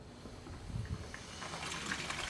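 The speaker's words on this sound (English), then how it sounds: "And just slowly turn on the water." Water from an outdoor shower pipe running into a bucket, a quiet gush that starts soft and grows to a steady rushing splash.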